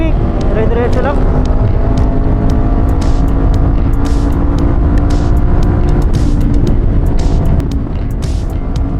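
A motorcycle rumbles continuously on a highway toward Tagaytay, with steady road and wind noise and other traffic passing close by, loud and unbroken throughout.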